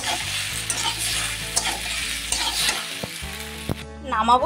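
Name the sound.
stirring masala pasta with tomato sauce in a pan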